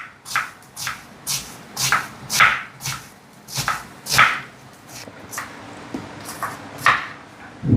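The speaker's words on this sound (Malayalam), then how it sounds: "ഒരു സബോള കേട്ടാ. അത് കനം കുറച്ചിട്ട് അരിഞ്ഞു വയ്ക്കാം." A knife slicing an onion thinly on a board gives steady, rhythmic close-up cuts, about two per second, with no talking.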